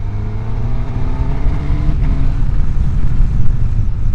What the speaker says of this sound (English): The engine itself is lovely, with loads of go